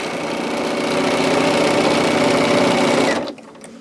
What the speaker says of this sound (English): I may do a little bit of sewing